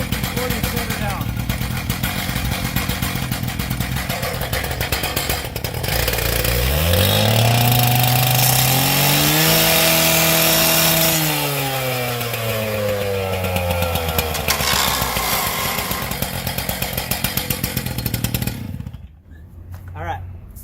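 A gas-powered demo saw revving up hard, holding a loud high-pitched whine while cutting pipe, then winding down and cutting off, with someone talking over the steady engine idle before and after.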